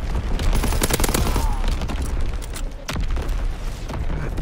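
Artillery barrage in the Call of Duty WW2 video game, with a dense fusillade of booming shots and rapid gunfire layered together for several seconds, loud and continuous, with sharp individual cracks standing out.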